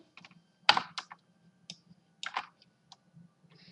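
Username typed on a computer keyboard: a short irregular run of crisp key clicks and taps, close and fairly loud, with small pauses between bursts and no talk.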